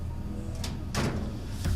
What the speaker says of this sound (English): I suppose I should close this door